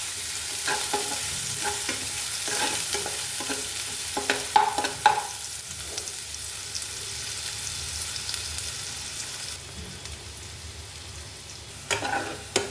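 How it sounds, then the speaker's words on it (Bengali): Chopped garlic sizzles steadily in hot oil in a wok, with scattered scraping stirs and a few louder clatters of the spatula, close and continuous with no voices. "রসুনটাকে আমি লাল লাল করে ভেজে নেব।"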